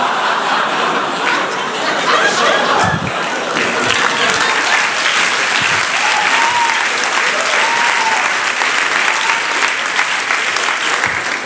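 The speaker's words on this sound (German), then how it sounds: "während geklatscht wurde" Continuous loud audience applause at a university science slam in Mannheim, a dense, even wash of clapping from a large crowd lasting over ten seconds, with faint chatter and chuckles underneath.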